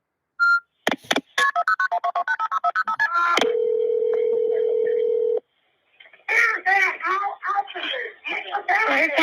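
Touch-tone telephone dialing on a 911 emergency call: a rapid run of keypad beeps, then a steady ringing tone for a couple of seconds, followed by voices speaking on the line.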